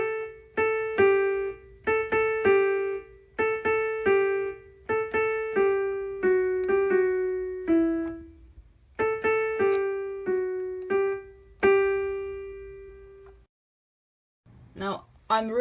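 Solo piano plays the intro of a song as a run of clear, separate notes. Short melodic phrases repeat with a steady rhythm, then a brief silence, and a few more notes follow. The sound is close and clean.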